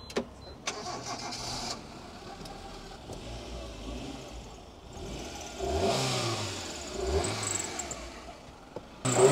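Car engine in a video game, starting and idling before revving up twice in rising, falling sweeps, a mid-pitched engine heard close with no talk over it.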